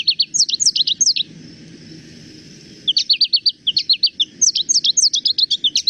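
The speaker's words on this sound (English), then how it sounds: "Goldfinch, goldfinch, goldfinch. That's the goldfinch." Goldfinch song: rapid, bright twittering chirps in quick bursts, a short lull midway, then denser runs of twitters, fairly close over a faint low background hum.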